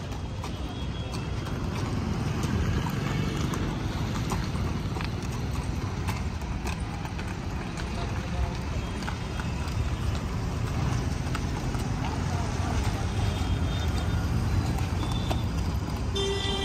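A newly shod horse walking forward on hard ground, its steady clip-clop hoofbeats repeating through a continuous noisy background, with distant vehicle horns faintly audible.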